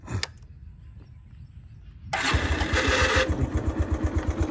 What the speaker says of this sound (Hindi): ये गाड़ी स्टार्ट हो गई एक सेल्फ मारा हूँ हल्का सा स्टार्ट हो गया